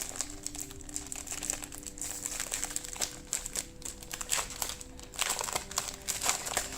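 Plastic packaging of a diamond painting kit crinkles and crackles continuously as it is opened and unwrapped up close, with no talking.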